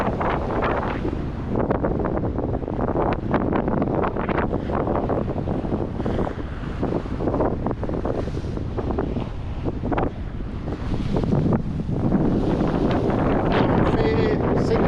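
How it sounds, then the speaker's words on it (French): Strong, steady wind of around 20 knots roars across a sailboat at sea on the passage from Cape Verde to Senegal, buffeting the microphone loudly and continuously with waves and hull noise beneath. "Il y a 20 nœuds de vent toujours."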